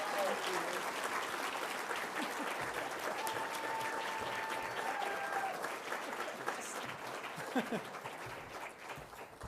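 Sustained applause from an awards ceremony audience fills the whole stretch, dense and even, gradually thinning toward the end.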